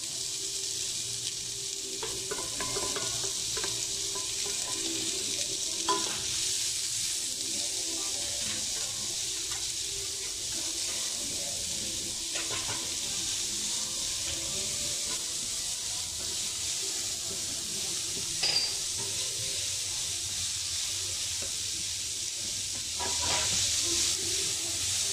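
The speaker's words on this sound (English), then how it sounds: "Then put the onion and fry it well." Onion frying in a pan, a steady close sizzle and hiss with occasional clinks and stirring scrapes over about twenty-five seconds, no talk.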